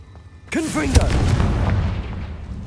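Confringo, a blasting curse from the Hogwarts Legacy game, fires with a swooping whoosh and bursts into a loud, close boom, then a rumbling roar that slowly fades. A voice is present.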